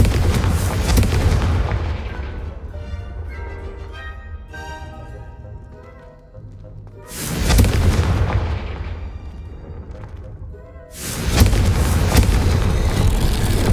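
A Confringo spell blast from the video game Hogwarts Legacy: a loud fiery boom that rumbles and decays with crackling debris, then two more heavy explosive bursts follow, each booming close and full.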